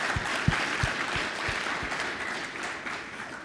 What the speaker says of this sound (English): I want to go ahead and give a round of applause.